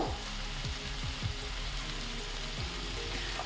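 A spoon stirs chicken and vegetable soup in a pan, scraping in several short strokes over a constant bubbling, sizzling hiss, close and fairly loud with no voices.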